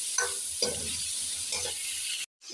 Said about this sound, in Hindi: अब हम हरी मिर्च को तकरीबन 2 मिनट के लिए फ्राई कर देंगे।